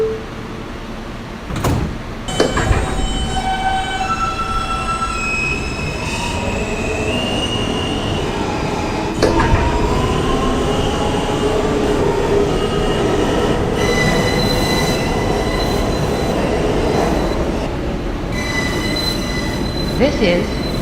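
A Brooklyn-bound New York subway F local train rolls into 42nd Street–Bryant Park, its wheels squealing loudly against the rails over a steady rumble, with door thumps and rattles along the way.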